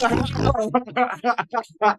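A voice imitates a grumpy badger with a low, gruff grunting growl, then slips into mumbled gravelly muttering in the same rough low voice.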